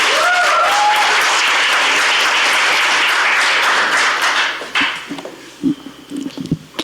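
Loud applause from a forum audience welcomes a lawmaker to the podium, filling the room steadily before fading out after about four and a half seconds into scattered claps and shuffling footsteps.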